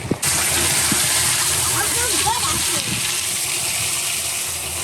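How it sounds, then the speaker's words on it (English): Water gushes loudly and continuously from a water barrel into a bucket, a close, steady splashing pour that holds for several seconds. "Filling the bucket up!"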